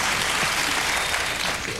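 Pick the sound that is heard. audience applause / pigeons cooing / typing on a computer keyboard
audience applause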